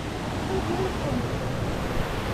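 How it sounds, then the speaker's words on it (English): A waterfall beside a mountain running trail in the Philippines rushes in a steady, broad hiss of falling water, close and constant with no pauses. "Second waterfall of the day."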